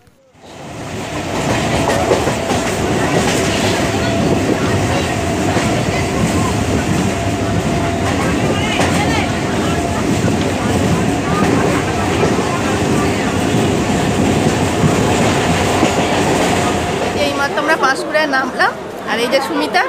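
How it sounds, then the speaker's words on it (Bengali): A train pulls into Durgachak station in the early morning, its loud, steady rumble and clickety-clack of wagons filling the scene for nearly the whole stretch, with people chattering nearby beneath it. "ট্রেন চলে আসবে।"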